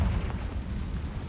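A Confringo spell bursts into a fiery explosion in Hogwarts Legacy, a short, dense boom with a rumbling low body, heard alone.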